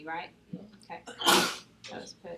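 A single sharp sneeze bursts out between stretches of nearby talking, loud and brief.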